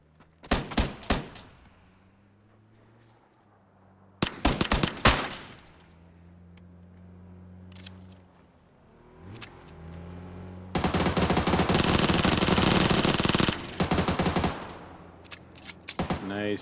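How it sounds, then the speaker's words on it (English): Gunfire in the battle royale video game PUBG: loud bursts of automatic fire at the start and near four seconds, scattered single shots, then a long sustained burst over several seconds, with a low engine hum between. "Probably real people shooting at him though."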